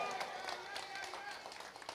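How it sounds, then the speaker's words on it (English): Crowd clapping at an official reception on the island of Nevis, a steady dense patter of many hands held at an even level throughout, with indistinct voices mixed in. "Let us give Patrice tremendous applause once again."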